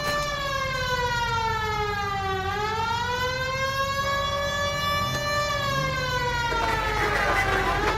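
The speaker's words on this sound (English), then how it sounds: "Hit the siren." Police car siren in L.A. Noire wails continuously, sweeping down and back up in pitch, loud and close over a steady engine drone, with a brief noisy burst near the end.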